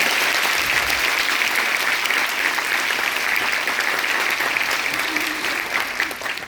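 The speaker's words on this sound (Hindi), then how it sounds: "तो अपने माता पिता के लिए एक बार मन से उनको याद करते हुए जोरदार तालियां बजाएं।" Loud, continuous applause from an audience at a college orientation programme, a dense wash of clapping hands that holds steady throughout and fades slightly at the end.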